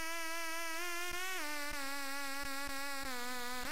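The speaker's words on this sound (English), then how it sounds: "Now what you hear is that the lead doesn't sound full." A thin, buzzy electronic lead synth lacking fullness holds bright sustained notes that shift in pitch, over soft regular percussive ticks, loud and alone.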